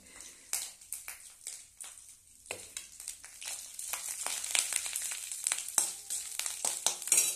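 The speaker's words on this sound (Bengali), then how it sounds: "এই আদাটা তেলে দিয়ে আমি এরকমভাবে ভাজি" Ginger frying in hot oil in a home kitchen, quiet crackling and spitting that grows busier and denser as it cooks, with occasional taps of a utensil.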